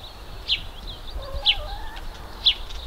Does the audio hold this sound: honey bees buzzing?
no